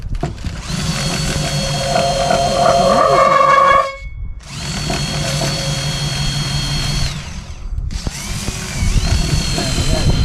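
A power tool whirs in three long bursts with brief pauses between them, close and loud, as it unscrews a mushroom vent on a narrowboat roof; faint voices are heard beneath it.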